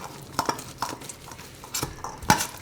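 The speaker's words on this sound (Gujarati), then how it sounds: "વટાણા છે એને થોડાક આ રીતે દબાવી દેવું" Soft scraping and light tapping of green peas being pressed and mixed into a cooled sabudana tikki mixture, a few quiet irregular dabs and clinks close by.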